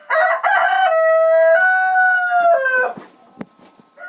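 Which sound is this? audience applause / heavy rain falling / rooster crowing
rooster crowing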